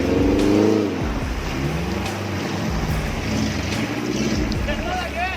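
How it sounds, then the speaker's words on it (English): Engine of a custom red off-road 4x4 rig stuck deep in a mud trench, revving and straining in uneven surges while people talk over it. "That red off-road rig is deep in the muck."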